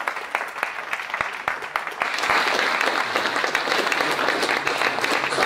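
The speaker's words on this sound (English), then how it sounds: "Can we have a round of applause for you?" A few scattered claps quickly swell into loud, sustained audience applause that fills the room and keeps going at full strength.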